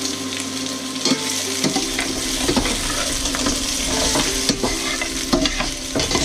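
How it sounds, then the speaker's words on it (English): Spareribs stir-fried in a sugary sweet-and-sour glaze in a hot pan, with continuous sizzling and repeated scraping, clattering stirs of the utensil against the pan. "Now we're just going to stir fry these for a couple of minutes"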